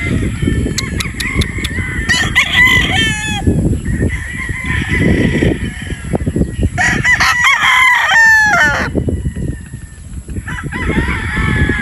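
A Sweater Boston gamefowl broodstag rooster crows loudly and close, twice in a row, over a constant rushing background.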